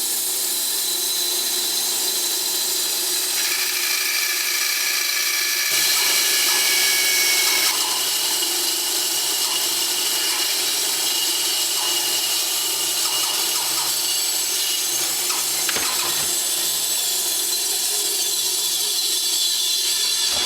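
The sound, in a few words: bandsaw cutting four clamped cutting boards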